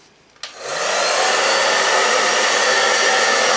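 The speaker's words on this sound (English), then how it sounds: "Simple hairdryer on the hot setting." A hairdryer on its hot setting clicks on and spins up to a loud, steady blowing whir that holds continuously and close with no talking, used to warm a motorbike's chrome.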